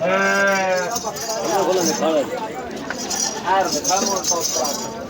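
Goats bleat repeatedly at a livestock market, with several loud, wavering cries close by and more bleats overlapping, amid a steady background of crowd chatter and people talking.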